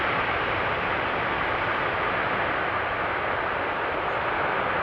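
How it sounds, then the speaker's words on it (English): An A380 airliner lands at Amsterdam Schiphol with idle reverse thrust, a steady, broad roar of jet noise that holds fairly even and moderately distant throughout. "Is it doing an idle reverse landing?"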